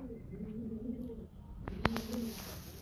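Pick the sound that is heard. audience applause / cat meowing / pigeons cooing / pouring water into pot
pigeons cooing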